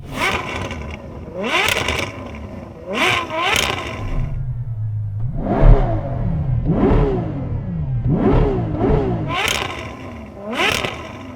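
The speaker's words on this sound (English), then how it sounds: "I'm going to rev up the Ferrari first." A loud Ferrari 812 Superfast engine revving repeatedly, sharp rising blips of throttle with a deep idle rumble between them, close by.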